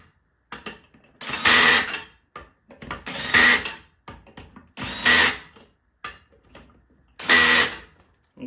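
Four short bursts of a power drill spinning up close while snugging cylinder head bolts during a head gasket install, evenly spaced with quiet gaps and small mechanical clicks in between.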